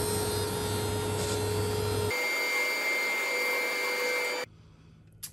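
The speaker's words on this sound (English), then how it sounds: "I'm gonna go ahead and bring it back to the planer and get them down to final thickness" A planer mills walnut boards down to final thickness with a loud, steady machine drone. Its tone shifts partway through, then it cuts off to a quieter hum near the end.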